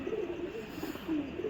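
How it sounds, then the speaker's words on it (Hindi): A pigeon coos softly in repeated low, rolling calls, close by, with faint background noise. "भाई ये कबूतर है"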